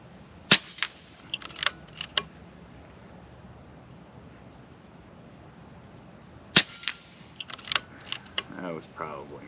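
A Kalibrgun Cricket II Tactical air rifle fires at targets 50 and 100 yards away. Two sharp, close cracks come several seconds apart, each followed by a few lighter clicks, and a voice is heard near the end.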